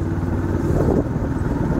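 A car drives along a straight road, giving a steady, loud engine and road rumble that continues without a break and with no voices over it.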